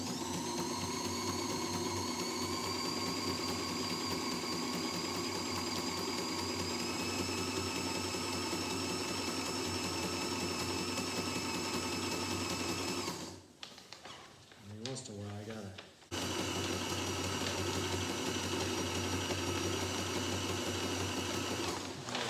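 A sewing machine stitches along the luff of a sailboat jib in a continuous fast mechanical whir, briefly halting in the middle before running steadily again, loud and close.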